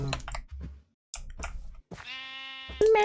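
A sheep in a video game lets out a single short, steady bleat near the end, following a few scattered low thumps and clicks with brief silent gaps between them.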